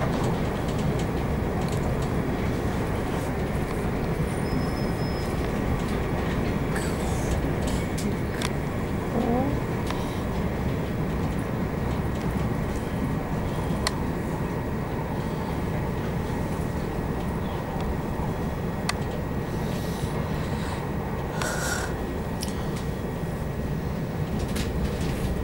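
A Southern Electrostar Class 377 electric train runs along, heard from on board as a steady loud rumble of wheels and motors with faint clicks and rattles throughout. Some speech is buried in the noise.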